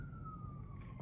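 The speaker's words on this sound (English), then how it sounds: "And excuse me, I'm sorry for the sirens." A siren wails steadily in the background, fairly faint and distant, its pitch gliding slowly downward beneath a low rumbling hum.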